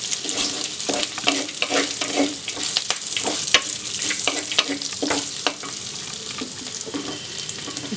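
Cashews cook in a clay kadai for kadai paneer, a dense bright sizzle with repeated stirring scrapes, close and loud throughout, no voices.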